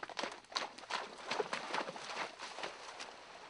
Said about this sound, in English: He's rented a horse and is heading to Last Chance Creek.